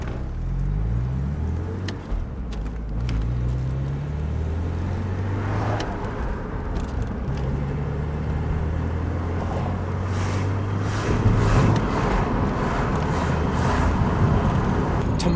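A Porsche pulls away in first gear from a traffic light, its engine note rising in steady harmonic sweeps as revs climb and shift, loud and close with road noise throughout.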